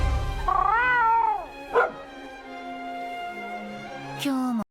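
A dog companion in the Monster Hunter video game gives whiny, tonal yelps followed by two short, sharp barks over a steady game-audio backdrop.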